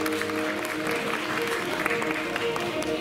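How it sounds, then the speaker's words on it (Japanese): Audience applause at the Miss World Japan Kyoto 2022 award ceremony, a steady, dense clapping that fills the hall continuously, with background music tones running underneath. "皆様大きな拍手をお送りください。"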